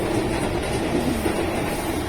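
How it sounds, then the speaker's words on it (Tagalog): A train passes on nearby rails, a loud steady rumble with faint rhythmic clacking and no voices. "Ayun yung tren, oh."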